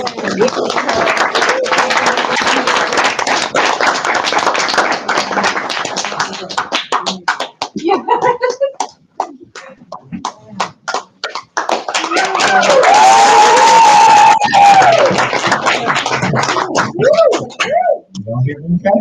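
An audience at a poetry reading bursts into loud, dense applause that thins out to scattered claps before a voice begins talking, with a little more clapping near the end.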